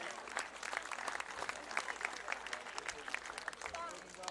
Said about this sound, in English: Let's give them a nice round of applause, all these people.